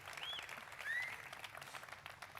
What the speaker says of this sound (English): You may now applaud.